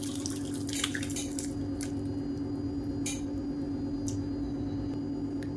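Soup drips and splashes through a strainer in scattered wet bursts, close and fairly soft, over a steady background hum.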